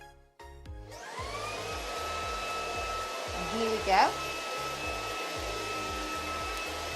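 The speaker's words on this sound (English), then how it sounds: "I'm going to switch this Hoover on and you'll see how loud or quiet it is" Shark Anti Hair Wrap cordless handheld vacuum cleaner switched on, a steady loud whine and motor hum holding nearly the whole clip after a click, with a short surge midway; a person speaks briefly at the start.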